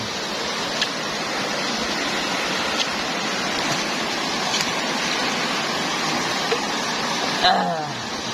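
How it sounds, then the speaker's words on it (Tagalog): Steady rushing water of a clear stream flows continuously, a broad hiss with a few brief knocks, and a faint voice briefly at the end. "Umaagos na tubig. Maliwanag ang tubig."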